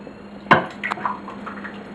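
Picnic party beans poured from a pot into a dish, a sudden wet plop followed by a few softer drips and sloshes, close and clear over a faint steady hum.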